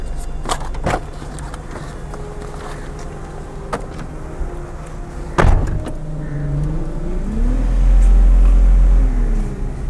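Car door thunks shut with a few sharp knocks as someone climbs in, then the engine rumbles louder under a low steady idle, no talking.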